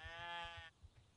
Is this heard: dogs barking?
no